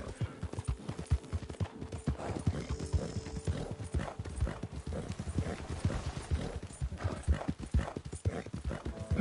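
Horse galloping in the video game Red Dead Redemption 2, rapid rhythmic hoofbeats pounding close and loud throughout, with a brief whinny in the mix.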